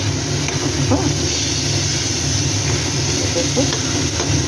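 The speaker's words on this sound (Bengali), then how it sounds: "একটু ভাজা ভাজা হোক" Taro leaves (kochu shak) fry and are stirred in a pan, a continuous soft sizzle over a steady low hum with occasional light scraping, moderately close.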